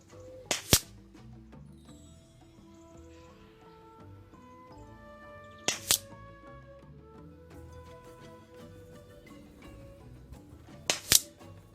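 Three sharp, evenly spaced pops ring out from a Crosman 1377 air pistol fired at a 50 m target. A faint tonal hum runs underneath, and no one speaks.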